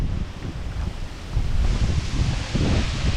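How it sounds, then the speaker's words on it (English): Strong wind blows over a river with white caps on the water, a loud continuous roaring rush that swells partway through and stays close to the microphone. "Wind's blowing upstream, down that way, around the bend, the wind was going downstream."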